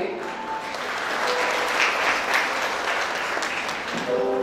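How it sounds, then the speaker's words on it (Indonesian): An audience claps steadily at a church parenting seminar, a continuous even patter of many hands sustained for several seconds with soft background murmur. "Kita juga berikan aplaus untuk para penata layanan pagi hari ini"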